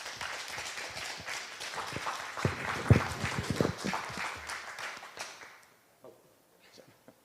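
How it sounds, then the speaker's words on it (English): An audience in a Baptist church in San Antonio applauds to welcome the mayor at a mayoral forum, a broad wash of clapping that swells and then fades away, with some voices mixed in. "Please, applause."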